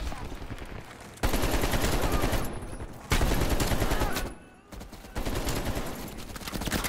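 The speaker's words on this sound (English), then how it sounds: "Oh my god, he has a minigun." Minigun fire in the Black Ops Cold War campaign, long loud sustained bursts of rapid gunfire broken by short pauses, with battle noise and occasional voices underneath.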